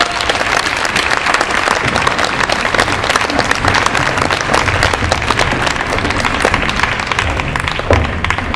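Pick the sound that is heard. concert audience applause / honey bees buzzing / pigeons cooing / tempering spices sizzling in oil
concert audience applause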